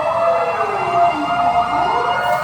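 Fire truck sirens wail loudly and nearby as fire engines respond to a fire on a narrow street in Quezon Avenue, the tone sweeping up and down continuously over engine rumble.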